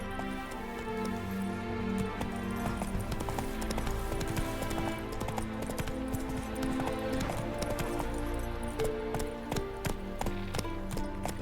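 Roach the horse galloping in The Witcher 3, a steady drumming of hoofbeats running throughout over a busy game soundscape with music, no voices.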